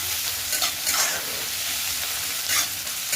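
Onion softening in a pan for paneer bharta, sizzling steadily with a few louder scraping stir strokes near the start, middle and end; no voices.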